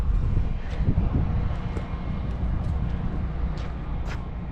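A 1942 Douglas DC-3 sits on the ground in Miami with its piston engines running, a loud, steady low rumble and drone, with a few faint higher clicks and knocks over it.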